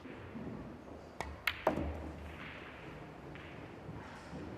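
Pool balls clack against each other on the table during a nine-ball style match between Johann Chua and Bernie Regalario: a few sharp, separate knocks in quick succession over steady crowd and room murmur.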